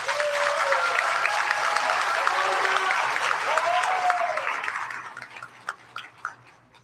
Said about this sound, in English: Can we give our graduates another round of applause?